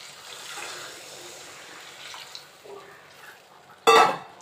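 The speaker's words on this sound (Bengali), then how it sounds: "এবারে এখানে আমি গরম জল করে রেখেছি," Hot water poured into a fish curry of papaya and potato cooking in a pan, a short loud splash and sizzle near the end after quiet kitchen background.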